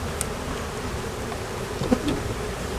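A honeybee colony from a fallen swarm trap buzzes as it is transferred, a dense continuous drone of many bees close by, steady in level with no talking.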